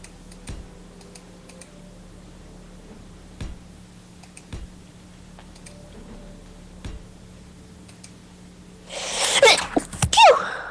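A person sneezes sharply near the end, a close burst with a second quick burst right after, following several seconds of quiet, scattered keyboard clicks and taps at a computer.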